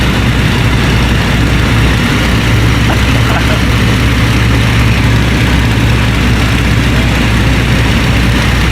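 A WW2 Spitfire flies in formation, its engine a loud, steady, enveloping low drone heard from inside the cockpit, with continuous wind roar and no voices.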